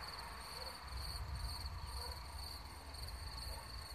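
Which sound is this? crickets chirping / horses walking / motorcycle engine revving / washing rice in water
crickets chirping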